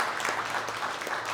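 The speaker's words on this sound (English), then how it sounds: "Big round of applause for the marketing team and Kitty Marcella." A crowd at a company quarterly event claps for the marketing team in dense, steady applause that fills the brief moment.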